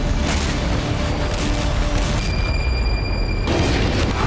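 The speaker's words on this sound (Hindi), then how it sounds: "लेकिन अब यहां हर दिन धमाके हो रहे हैं, आग लग रही है, तबाही मच रही है।" Explosions shake Rostov, Russia, in a dense, continuous roar of heavy booms and rumbling blasts that stays loud and distant-sounding throughout, with no clear talk over it.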